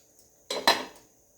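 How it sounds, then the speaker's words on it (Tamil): A brief clatter of metal, two quick knocks of a dhokla mould being set into a steamer vessel over boiling water, then quiet. "இதில் இந்த மோல்டு அந்த பாத்திரம் வச்சிடலாம்."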